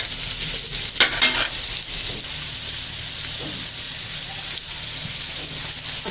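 Potatoes and spices fry in a hot pan while being stirred, giving a dense, steady sizzle with occasional scraping pushes of the spoon, loud and close, with no talking.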